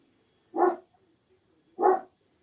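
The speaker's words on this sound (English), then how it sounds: "I hear a doggy." A dog gives two short, sharp barks about a second apart, fairly close in an otherwise quiet room.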